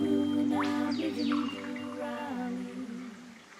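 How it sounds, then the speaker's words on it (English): Recorded underwater in the Wianamatta river, a hydrophone picks up tonal hums with rising and falling chirps and whistles in the first half, then a softer steady drone, with no voices. "We're listening to the underwater sound of Wianamatta."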